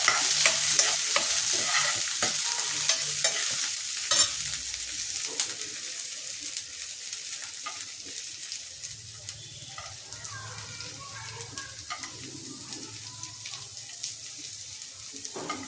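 Garlic frying in oil while being stirred in a pan for a country-style chicken fry, a continuous sizzle with scraping stir strokes, busier at first and settling into a steady crackle.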